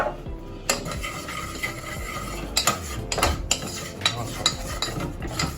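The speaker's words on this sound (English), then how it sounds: "just got to toast some spices" Spices toast in a pan for a curry sauce, with scattered metallic clinks and scrapes of a utensil stirring against cookware over a low background, the clatter sharp and close in irregular bursts.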